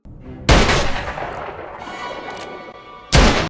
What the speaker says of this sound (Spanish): Charlie y Voss abren fuego, los disparos resuenan en la calle